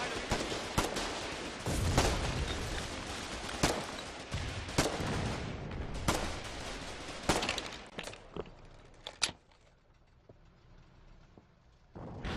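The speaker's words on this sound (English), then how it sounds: "This artillery piece is firing on a tank." Artillery firing in a war strategy video game, a series of sharp booming shots, some close and loud, others fainter, spaced irregularly over a rumbling background before fading to quieter ambience.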